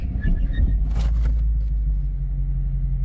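A 2022 Dodge Charger R/T brakes hard from 60 mph, a heavy low rumble of road and drivetrain noise with a brief rushing swell early on before settling into a steady drone.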